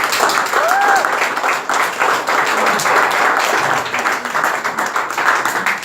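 A crowd breaks into loud, sustained applause, dense clapping filling the room for several seconds, with a faint voice briefly audible underneath.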